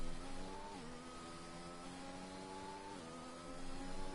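Race car engine droning steadily through a lap of the Shanghai circuit in a racing video game, a sustained mid-pitched whine with two brief gear-shift dips and a slight rise near the end, no talk.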